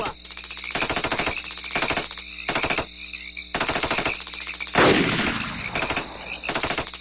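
Rapid automatic gunfire in a radio drama, repeated loud close bursts of rattling shots separated by short gaps, with one heavier blast midway.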